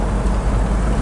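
A 1993 Jeep engine runs at a steady, loud low rumble while being shifted between gears without the clutch, a continuous drone with no voices.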